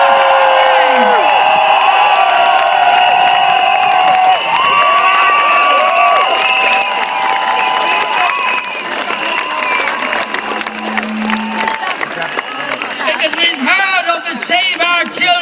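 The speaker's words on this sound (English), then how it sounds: "I want you to give the biggest shout, the biggest roar, the biggest applause to Michael Barron" Large outdoor crowd at Dublin Pride cheering, roaring and applauding loudly and continuously, with whoops and shouts layered over dense clapping throughout.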